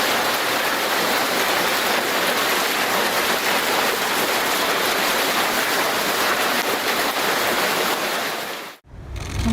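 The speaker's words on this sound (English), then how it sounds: "during a heavy hailstorm, the pool feels more like a jacuzzi" Heavy hail pelting an outdoor pool, a dense, loud, steady wash of hard impacts churning the water surface like a jacuzzi, continuous until an abrupt cut near the end.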